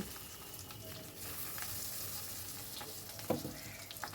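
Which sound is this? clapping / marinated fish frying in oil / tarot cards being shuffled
marinated fish frying in oil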